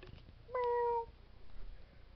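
A cat gives a single clear, drawn-out meow at close range, standing out briefly against a quiet room.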